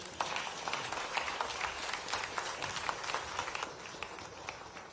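Audience at an investment interactive session in Bengaluru applauds with dense, continuous clapping that sounds faint and somewhat distant, holding steady throughout with no voices standing out.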